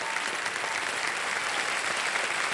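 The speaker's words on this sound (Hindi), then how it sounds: "तालियां बज जाए इनके लिए।" Steady, loud applause from a studio audience on a televised quiz show fills the whole stretch, dense and even with no voices over it.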